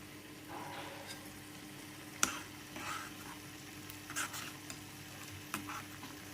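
Cumin and mustard seeds tempering in hot oil for a South Karnataka temple sambar, a faint continuous sizzle with scattered sharp pops and spoon stirring clicks, no talking.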